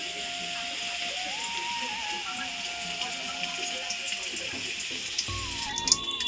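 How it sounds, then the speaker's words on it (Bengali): Potatoes frying in a pan give a constant, fairly quiet hiss throughout, with a faint tonal hum in the background and a brief clatter near the end. "এই দেখো আলু ভাজা হচ্ছে"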